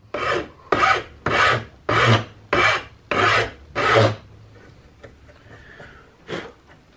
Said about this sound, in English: To bring that epoxy down, I'm just coming in with a rough flat file.